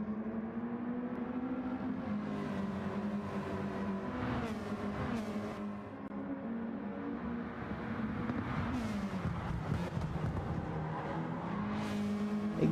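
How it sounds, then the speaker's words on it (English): GT race cars in a GTC World Cup race brake hard down into Murray's Corner, their engines droning and shifting down with sharp exhaust pops and crackles scattered over the steady motor noise. "Exhaust popping on these cars as they head down into the braking for Murray's Corner"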